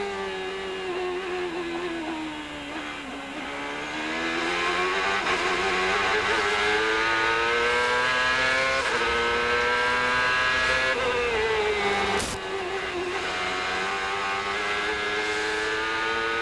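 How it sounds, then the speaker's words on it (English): CART race car at Mid-Ohio in 2000, heard onboard: a loud, continuous engine howl rising and falling through gear changes and throttle lifts for the whole stretch, alone without commentary. "On board Juan Montoya with Cristiano D'Amata just ahead."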